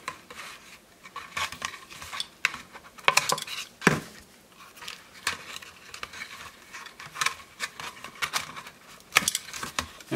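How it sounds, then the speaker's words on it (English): Loose cord ends of a homemade mullet fish trap are snipped off, a run of small dry cutting clicks and rustles close up, irregular and fairly quiet, with no talking. "just cut off the loose ends"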